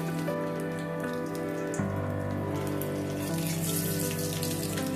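Green chilies and black cumin frying in mustard oil in a wok, a steady dense crackling sizzle that fills the whole clip at close range with no voices.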